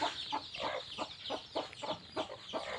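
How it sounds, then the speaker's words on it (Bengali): Chickens kept in a village enclosure cluck in a quick, regular series of short notes, close and fairly soft over faint background noise. "মুরগি।"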